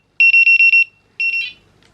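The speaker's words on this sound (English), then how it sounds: "there's the alarm" A baby breathing monitor sounds its alarm, giving five rapid shrill electronic beeps in quick succession, then a short pause and a longer warbling tone, loud and close in a quiet room.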